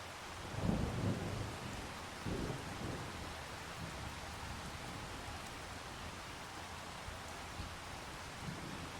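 Steady rain falls with low rumbles of thunder in the Farming Simulator 25 game, a broad continuous hiss with a couple of heavier rolls near the start.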